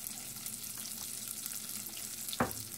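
Chorizo sizzles steadily in its own fat in a pan, with one sharp, brief burst of frying as onion drops in near the end, close and fairly quiet.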